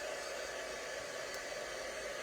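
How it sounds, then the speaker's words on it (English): Heat gun warming up for stamping and embossing, a steady, even whooshing blast of air that holds constant throughout without pauses or talking. "so I'm just going to heat up the heat gun"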